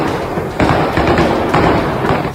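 Drone strike explosions over Kyiv at night, heard as a dense, loud rumble with repeated broadband thuds about half a second to a second apart, layered over continuous background noise with no clear voices.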